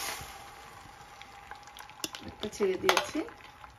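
An egg dropped into heated extra virgin olive oil, a soft sizzle that builds with clinks and scraping near the end, quiet and close.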